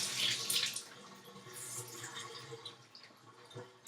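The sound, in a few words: water running in bathtub to dampen makeup sponge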